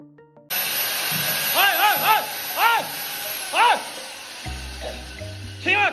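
A power drill boring a large hole into a concrete beam in a house under construction, the grinding bursts rising and falling in repeated pulses while someone talks loudly over and between them.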